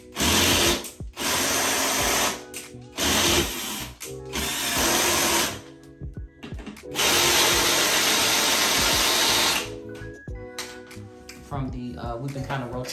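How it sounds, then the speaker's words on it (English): A power drill whirs in several long bursts, loud and close, with short pauses and clicks between runs as screws are driven into closet bookshelves. "We've been kind of rotating between the screwdriver and the drill to make sure that the screws are in tight"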